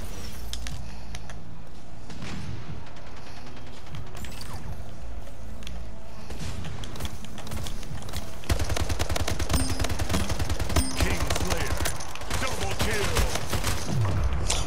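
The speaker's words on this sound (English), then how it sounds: "I shot him so many times" Rapid gunfire in the arena shooter Splitgate during a free-for-all match, with dense bursts that continue throughout and grow heavier in the second half, mixed with game effects.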